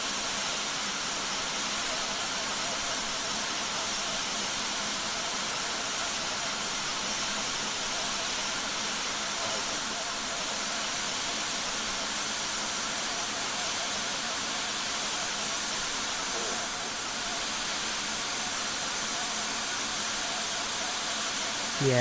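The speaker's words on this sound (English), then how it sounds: "the engine sounds not quite right for the replay" Engines of an Airbus A321 on short final into Warsaw, heard in a Microsoft Flight Simulator replay, produce a constant airy hiss and whine that stays even throughout, with no voices.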